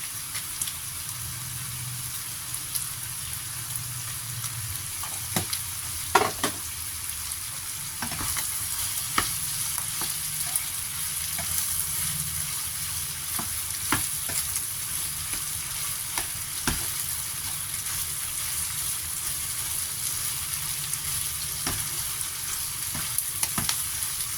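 Eggplant with minced pork and basil stir-fried in a pan, a constant sizzle running throughout with occasional sharp scrapes and knocks of the spatula, close and steady, with no voices.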